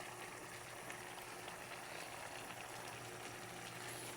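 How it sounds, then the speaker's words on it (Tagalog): A pot of soup with snails and water spinach just coming to a boil, giving a steady, even bubbling hiss with a faint low hum beneath, fairly quiet and unbroken throughout. "nagsisimula pa lang kumulo"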